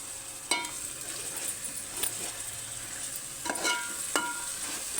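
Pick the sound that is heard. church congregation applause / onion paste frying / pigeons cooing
onion paste frying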